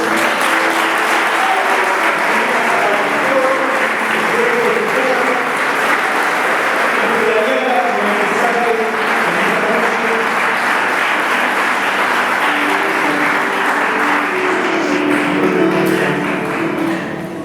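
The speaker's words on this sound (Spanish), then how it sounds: "Fuertes aplausos." Loud, sustained applause from a church audience fills the whole stretch without letting up, with a few faint voices mixed into the dense clapping.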